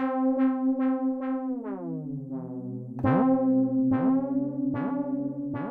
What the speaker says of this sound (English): let's go ahead and have some nice slow delay